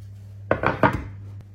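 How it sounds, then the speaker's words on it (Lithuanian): A heated pot, used for baking sourdough bread at 250 degrees, is pulled from the oven: a few close metallic clunks and scrapes in quick succession over a steady low oven hum, with no talking. "Ir dabar ištrauksiu kaitintą puodą"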